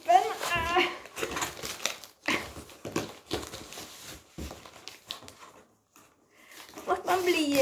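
Packing tape being peeled and torn off a food delivery package, with crinkling plastic and rasping tape sounds in bursts, close up, while a person talks over and between them.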